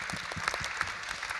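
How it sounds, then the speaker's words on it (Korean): A seated audience at a lecture event for restaurant owners claps, a soft, fairly distant patter of steady applause with no speech over it. "박수 부탁드리겠습니다"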